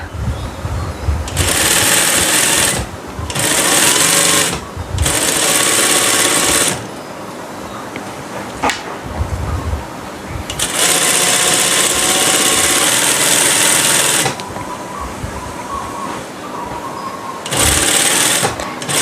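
Sewing machine stitching a fabric hem on pleated or flared skirt fabric, loud close whirring bursts that start and stop repeatedly with brief quiet gaps between runs.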